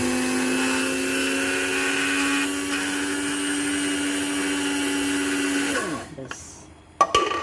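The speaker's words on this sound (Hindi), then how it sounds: "तो ये मैं इसे पहले थोड़ा सा ब्लेंड कर दूँगी" Electric kitchen blender grinding sugar into fine powder, a loud steady whirring motor hum for about six seconds that winds down and stops, followed by a couple of small clicks and knocks.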